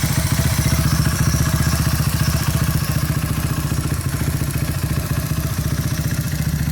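A Honda Fan 150 motorcycle fitted with a CB300 throttle body and a Dore exhaust idles close by, its steady low thrumming pulse running evenly and loud with a faint mechanical clatter throughout, no voices.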